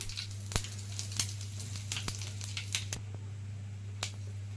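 Oil frying on a low flame while tempering a ridge gourd curry gives off sparse, sharp pops and crackles at irregular intervals over a steady low hum, fairly quiet and close.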